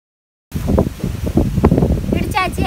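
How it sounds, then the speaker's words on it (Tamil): Strong outdoor wind buffets the microphone in a village cooking setting, a loud continuous rushing roar with gusting surges and rustling, beginning abruptly after a brief silence and running under and between bursts of talk. "பார்த்தா உங்களுக்கே தெரியும் காற்று ரொம்ப வேகமாக அடிக்குது."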